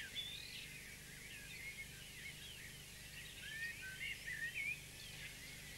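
Wild birds chirp and call beside a quiet North Devon railway platform. The high, scattered twitters are faint and distant, heard over soft background hiss.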